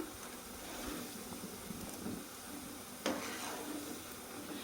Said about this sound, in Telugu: ఇలాగైతే చేసుకున్నాను ఇందులో నూనెలో వేసుకున్నాను